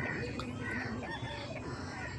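Roosters cluck and crow at a busy rural poultry market, with the calls fairly faint beneath a constant crowd murmur.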